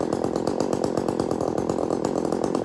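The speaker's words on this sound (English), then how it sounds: "chainsaw, which is what I have now" A chainsaw running steadily at close range, its engine giving a loud, continuous buzzing drone with a rapid pulsing rhythm, and no talking.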